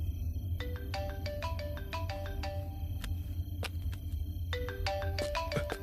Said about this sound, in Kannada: ಸರ್, ನಿಮ್ ಫೋನ್ ಬಡ್ಕೋತಿದೆ.